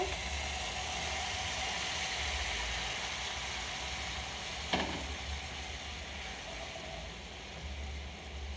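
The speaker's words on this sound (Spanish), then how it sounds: "Espera que ya está hirviendo, ya está bien caliente el sartén." A hot frying pan of sauce seethes with a continuous dense sizzle and bubbling at moderate loudness, one brief sharp clatter sounding midway, no voices.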